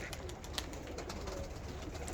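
Tumbler pigeons coo softly at a flight loft, a faint low warble in the background with a few light knocks and rustles.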